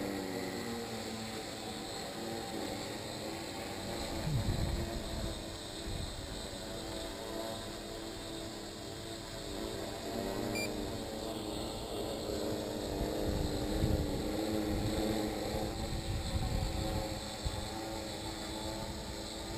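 A drone in flight just after takeoff gives off a steady, buzzing propeller whine with sustained tonal hum, moderately loud and near, and no one speaks over it.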